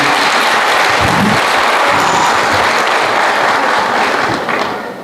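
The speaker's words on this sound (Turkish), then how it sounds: "Sanatçı kimliğiyle tanıdığımız bir de onları alkışlayalım lütfen" An audience at a Turkish art music concert bursts into loud, sustained applause, dense clapping filling the room before it begins to taper off at the end.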